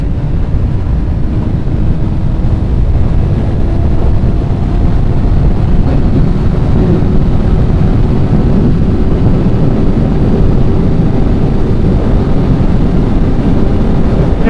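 A Honda Hornet 600 motorcycle revs high toward 9,000 rpm under acceleration, its engine a loud steady drone with a slowly rising pitch, heavily buffeted by wind rushing over the microphone throughout.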